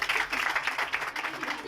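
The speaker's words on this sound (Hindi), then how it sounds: "और जो लाए हैं उनके लिए तालियां बजाएं।" A church congregation breaks into steady clapping for those being honoured, a dense, even patter of many hands filling the room for under two seconds, with voices mixed into the applause.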